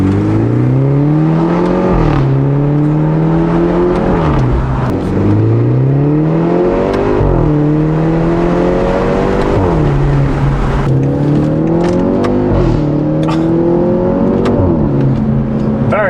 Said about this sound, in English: We'll get a little acceleration